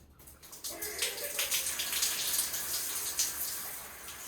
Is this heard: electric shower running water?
yes